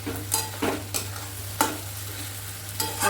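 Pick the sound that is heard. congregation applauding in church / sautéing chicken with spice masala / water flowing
sautéing chicken with spice masala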